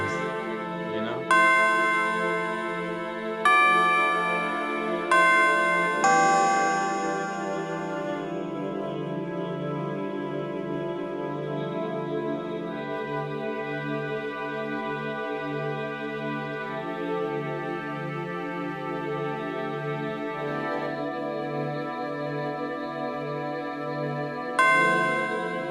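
Tubular bells ring out in a song, with bright metallic strikes that decay over a sustained, layered backing of instruments. Several loud hits come near the start, and another lands near the end.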